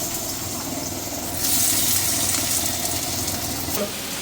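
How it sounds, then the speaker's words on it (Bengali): Potato pieces fry in hot oil in a pan for a Bengali aloo posto, giving a steady close sizzle that swells louder partway through and continues alone without talk. "আলুটা একটু ভাজা ভাজা করে নিই সুন্দরভাবে ভাজা ভাজা করে নিতে হবে"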